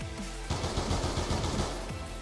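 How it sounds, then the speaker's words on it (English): Light machine gun in a first-person shooter video game firing fully automatic, a dense, steady burst of rapid shots running for about two seconds after a short pause, loud over background game sound. "Because we still have some bullets on the light machine gun."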